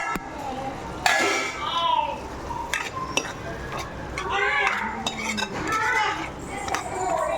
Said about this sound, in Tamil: இப்போது நான் ஒரு 1/2 கிலோ சுரைக்காய் இந்த மாதிரி கட் பண்ணி வச்சுருக்கிறேன். அதையும் இதில் போட்டுருவோம்.